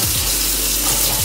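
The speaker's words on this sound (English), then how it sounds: "This like super deep sink with this super cute like hose." Water runs steadily from a movable hose faucet into a deep kitchen sink, a loud, continuous splashing hiss with no pauses.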